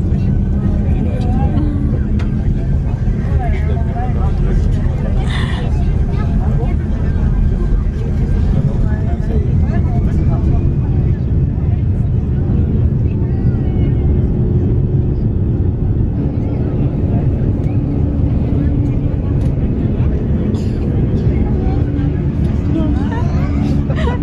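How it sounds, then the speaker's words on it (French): A steady, loud airplane engine drone rumbles through the whole stretch of a takeoff while people, including children, talk over it inside the cabin. "Cette fois-ci, on nous a annoncé le décollage."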